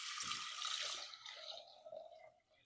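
Water runs and splashes into a cooking pan holding lentils, a quick pour that starts loud and bright, then settles into a softer trickle and fades out.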